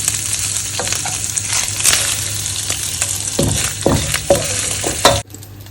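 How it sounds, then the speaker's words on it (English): Bacon fries crispy in a pan with a loud, steady sizzle, interrupted by a few scraping stirs and clanks of a utensil near the end before the sizzling suddenly cuts out. "I want it to be a little bit crispy, guys."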